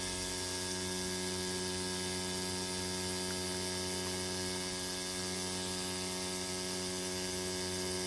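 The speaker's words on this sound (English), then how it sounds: "I'll move this motor somewhere where it's quieter" Loud electric motor hums steadily in a car detailing shop, a constant mains-like drone with strong harmonics and no break or talk.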